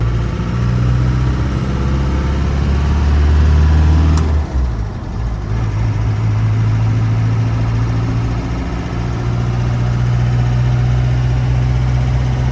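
A 1996 Land Rover Defender 90 drives along, its engine giving a loud, steady low drone with a brief dip partway through before the rumble resumes.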